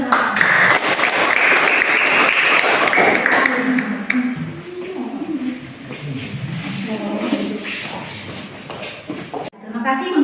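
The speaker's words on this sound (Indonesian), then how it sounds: "Tepuk tangan untuk teman-teman" Classroom applause from students during a group presentation, dense clapping filling the first few seconds, then fading into lively chatter and voices for the rest of the clip.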